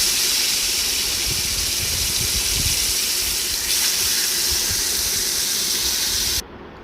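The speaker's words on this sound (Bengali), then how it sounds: "মাছগুলোকে খুব সুন্দর করে ভেজে নেব।" Koi fish coated in turmeric and salt frying in hot oil gives a loud, steady hiss of sizzling that holds for several seconds, then cuts off abruptly near the end.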